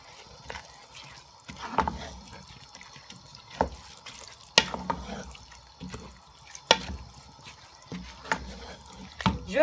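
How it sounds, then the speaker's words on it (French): Water is added to a simmering pot of pilau with rice, meat and vegetables, heard as splashing, trickling liquid with a few sharp clinks and knocks spread across the clip, close and fairly clear. "J'ai rajouté l'eau."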